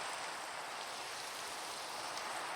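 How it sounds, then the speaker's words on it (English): Rain falls in a steady, even hiss of dense drops, a soft continuous wash of noise without pauses or distinct impacts and no voices. "perfect timing for the rain."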